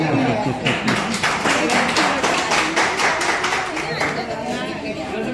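Students on the back benches clapping at a get-together, a steady patter of many hands from a crowd in the room, mixed with voices and chatter throughout.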